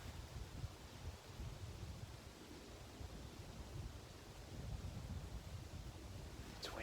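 Steady, broadband wind roars throughout, with low rumbling gusts rising slightly near the end; no voices are heard.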